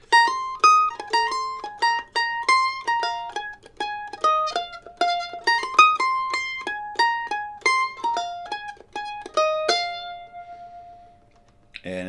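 Mandolin playing the second verse melody of a song higher up the neck, a clear run of bright plucked notes in steady rhythm, ending on a held ringing note, played alone.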